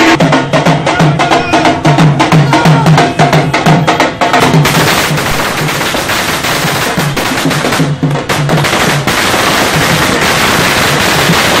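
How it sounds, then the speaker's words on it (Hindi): Firecrackers set off by party workers celebrating at a town square, a dense continuous crackle of rapid pops and bangs, loud and close, with crowd noise mixed underneath throughout. "कार्यकर्ताओं ने गांधी चौक पर एक दूसरे को गुलाल लगाकर पटाखे छोड़े"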